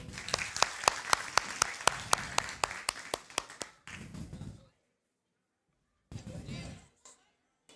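A church congregation claps in praise, a run of sharp, evenly spaced claps for several seconds, then a burst of looser applause, silence, and a brief final flurry.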